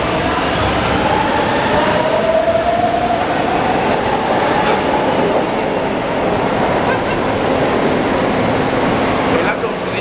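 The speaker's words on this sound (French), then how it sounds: "bienvenue dans le métro" A São Paulo metro train rumbles steadily and loudly throughout, with a rising whine of the motors and voices talking faintly underneath.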